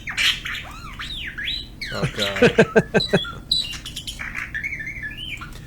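A brightly colored bird squawks and chirps close by in a rapid, varied run of harsh calls and sweeping whistles. A person briefly exclaims partway through.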